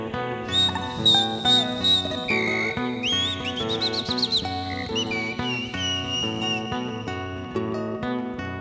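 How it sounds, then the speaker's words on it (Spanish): A calandria, or mockingbird, whistles a bright song of rising and trilled phrases, heard loud and clear over a steady bed of music, with the song recurring through the passage. "Silba la calandria."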